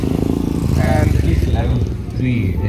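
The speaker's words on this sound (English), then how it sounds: "this is the route where all the bikes come in and go" Motorcycles rumble near the India Bike Week 2021 entrance, a loud, steady, throbbing engine drone under someone talking up close.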